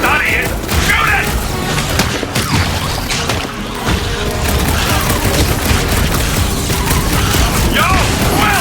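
Rapid gunfire and booms from a shootout against a creature in Marvel's Guardians of the Galaxy, dense and continuous under loud game dialogue and effects.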